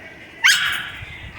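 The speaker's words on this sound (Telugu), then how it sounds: "ఇది కుక్క" A puppy gives one sharp, high bark followed by a short whining tail. It sounds fairly close over a quiet background with low rumble.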